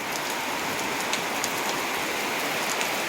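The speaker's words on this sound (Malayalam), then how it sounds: "ഇവിടെ നല്ല മഴയാണ് കേട്ടോ." Heavy rain falls steadily, a dense, constant hiss of drops with faint patters on a surface, no voices.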